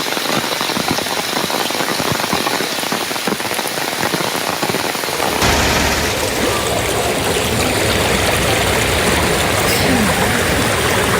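Heavy rain in Thrissur pours steadily over floodwater that covers the Palappilly ground, a dense continuous hiss of rainfall and rushing water that grows fuller and louder partway through.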